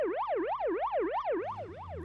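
A car siren wails in a rapid rising-and-falling sweep, repeating about five times in two seconds, loud and clear with no talk over it, in a Tamil television serial.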